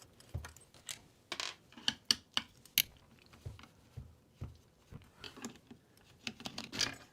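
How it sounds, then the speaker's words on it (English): Torx screws come out of a Bosch 1274 DVS belt sander with faint, close clicks and small metallic ticks in an uneven rhythm, quiet and without talk. "I think we can just take it off by taking the torque screws off of here."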